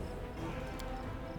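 Horse animal companion in Pathfinder: Wrath of the Righteous, with steady close clip-clop hoofbeats running continuously under faint game ambience.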